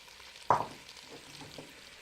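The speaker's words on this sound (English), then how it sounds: "we're going to just fry this until the onions have gone nice and clear" Onions fry in melted butter for a Thai butternut soup, a brief clatter as they drop in followed by a soft, low sizzle, close and quiet over about two seconds.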